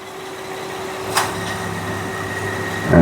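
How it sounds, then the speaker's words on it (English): A 2007 Honda Odyssey engine idles steadily with its cycling-clutch AC compressor short-cycling from low refrigerant. A single sharp click sounds partway through the steady hum, and a heavier surge rises right at the end. "So the compressor kicks in at about 55, 60 PSI."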